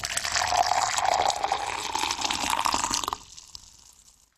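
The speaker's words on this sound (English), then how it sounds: "here is hot water being poured into a glass cup" Hot water pours steadily into a glass cup up close for about three seconds, a bright, full splashing fill that then stops abruptly, leaving a faint tail.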